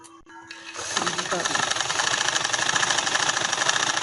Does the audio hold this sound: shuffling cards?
no